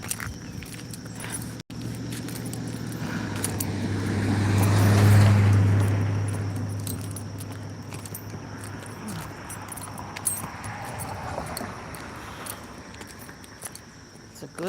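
Road traffic heard from a walk on foot: a car swells past in the middle and fades away, with steady background traffic noise and faint jangling and footsteps nearby.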